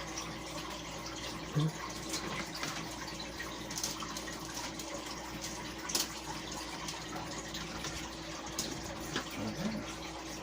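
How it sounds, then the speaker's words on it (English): Water running steadily from a kitchen tap while washing up after making bread bowls, a continuous moderate gush with a few faint clinks of dishes. "I'm going to wash up here"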